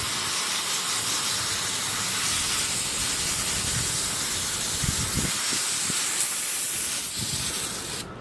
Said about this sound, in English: I'm going to throw some carb cleaner through this